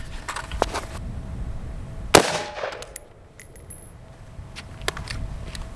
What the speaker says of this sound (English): we're gonna shoot this with the rifle now. AR-15, this is just a Daniel Defense.